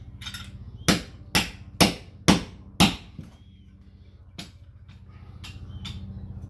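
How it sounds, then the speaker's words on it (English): Five sharp metallic hammer strikes knocking a brass fitting off copper tubing, in a steady rhythm, close by, followed by a lighter tap and a low background hum. "we get a hammer, just whack it out"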